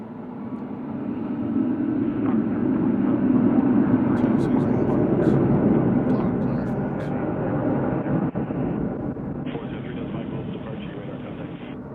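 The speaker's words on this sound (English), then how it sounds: "the next plane taking off looks like a 20627" A large jet takes off at Louisville UPS World Port with a steady, loud, broad engine roar lasting throughout, heard from a distance outdoors.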